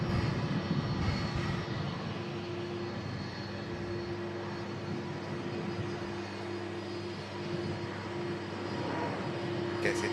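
An airliner lands and touches down at an airport, its engines giving a steady, fairly distant roar that holds for the whole stretch.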